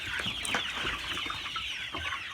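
Laying hens in a home henhouse clucking steadily, several birds overlapping in a busy, close chorus of short clucks and murmurs without any talk.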